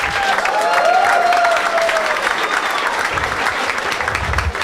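Audience applause at a live stand-up comedy crowd-work show, a dense, steady wash of clapping from the whole room held at even loudness throughout.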